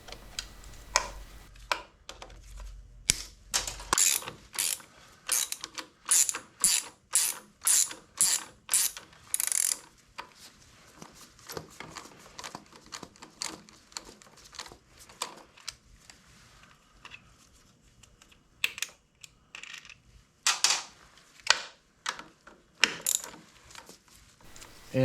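A hand ratchet clicks in quick, close strokes while bolts come out of the inner primary on a 1981 Harley-Davidson FXS-80 Lowrider, with rhythmic runs of sharp ticks, pauses between sets, and no talk.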